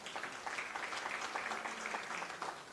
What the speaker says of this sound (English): I think it deserves a round of applause.